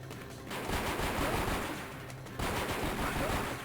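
Rapid pistol fire from the Nintendo DS game 007: Blood Stone, a quick run of snappy shots mashed in fast succession, broken by a brief pause before another burst, all fairly faint.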